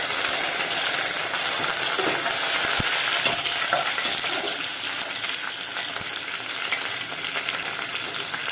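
Curry leaves hit hot oil already holding fennel and cumin for a mutton curry, producing a loud, continuous crackling sizzle with scattered pops and a couple of sharp knocks, and no talking.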